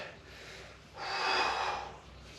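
A person yawns mid-workout during an upper-body home exercise session, a single long breathy yawn that swells for about a second and then fades, close to the microphone with no talking.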